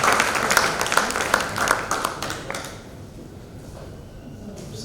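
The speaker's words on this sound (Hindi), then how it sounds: "प्लीज जोरदार तालियों से आपका" Applause from a conference audience welcoming a speaker, dense clapping for about two and a half seconds that thins out into a few scattered claps and quiet room noise.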